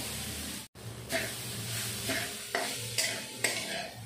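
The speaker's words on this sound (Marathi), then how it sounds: "प्रथम आपण आता नारळाचा चव कढईमध्ये घालतोय." Grated fresh coconut stirred and dry-roasted in a kadhai, a steady close frying sizzle with repeated scraping strokes of a spatula against the pan, no talking.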